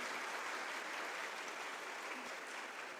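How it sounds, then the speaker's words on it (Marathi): A women's group in a crowd applauds loudly at a public gathering, producing a dense, even wash of clapping that holds steady throughout with no voices on top. "मला जोरदार टाळ्या होत्या महिला मंडळ"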